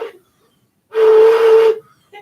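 A human voice imitates a train whistle, a single loud sustained steady-pitched hoot lasting under a second, with brief faint vocal sounds just before and after.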